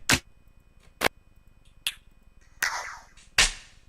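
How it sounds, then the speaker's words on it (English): Punchy clap hits from a dance music drum kit sound one at a time, five sharp, dry strikes spaced roughly evenly, the last few with a slightly longer noisy tail, with no talk. "Let's move on to looking at the clap, which is an integral part of dance music"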